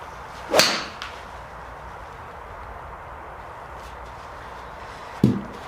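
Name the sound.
golf iron striking ball, clicky sound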